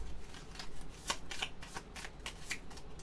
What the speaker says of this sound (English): And then we'll shuffle.